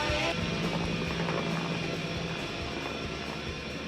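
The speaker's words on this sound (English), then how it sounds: "The way it gets taken over here by the helicopter sound." A loud helicopter sound with rotor chop and a droning engine, washing over dense music in a song, steady and heavy throughout.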